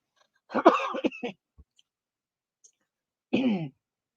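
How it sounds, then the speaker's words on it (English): A few short, sharp coughs from a person with a chronic throat condition after drinking a shamrock shake, a cluster of quick bursts followed by one more cough after a pause, close and alone. "Sorry about the cough."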